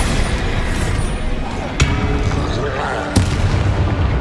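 Bombardo explosion spell cast in the video game Hogwarts Legacy, giving two sharp booming blasts over a dense, steady bed of game noise.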